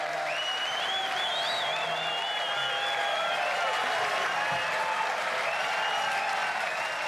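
Audience at a showbiz darts match applauding after the final dart, a dense, sustained wash of clapping from a large crowd, steady and even throughout with no voices standing out.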